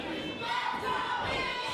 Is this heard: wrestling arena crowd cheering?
yes